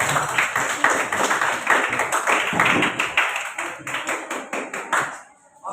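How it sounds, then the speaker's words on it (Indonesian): A group of schoolchildren in a classroom lesson on bullying claps hands together, sharp close claps falling into an uneven, partly rhythmic pattern that thins out and stops near the end. "tepuk tangan buat kita semuanya"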